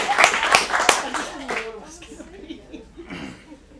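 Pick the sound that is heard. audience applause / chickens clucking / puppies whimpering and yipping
audience applause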